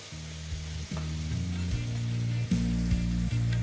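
Marinated chicken and onions fry over a high flame, a loud continuous sizzle broken by repeated scraping stirs of a spatula, close up and without talk.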